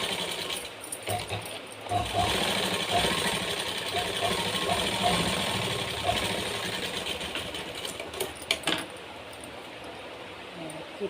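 A sewing machine stitches blouse fabric in a steady mechanical whir with a rapid chattering rhythm, close and continuous, with a few small clicks near the end.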